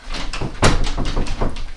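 A stuck door being tried, a rapid run of loud close rattling knocks and thumps as it is tugged and jostled without opening, no voices.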